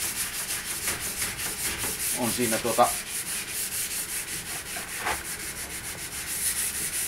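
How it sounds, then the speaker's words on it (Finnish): Wet sanding of a painted Valtra tractor panel by hand: steady rhythmic rubbing strokes, close and continuous, with a brief muffled voice partway through. "Toimii hyvin tässä hioma värinä, niin peittää noita isompia naarmuja"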